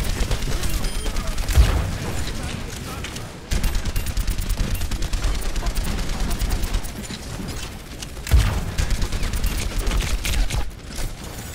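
Rapid gunfire from Overwatch, Soldier 76's rifle in a match, with sustained bursts of shots and occasional booms, loud and continuous through most of the clip.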